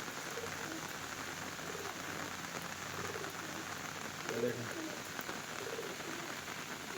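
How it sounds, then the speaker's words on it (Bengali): Rain falls steadily outside as an even, hissing patter, while pigeons nearby give occasional faint coos beneath it. "আজকে বাইরে বৃষ্টি পড়ছে"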